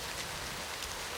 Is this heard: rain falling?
yes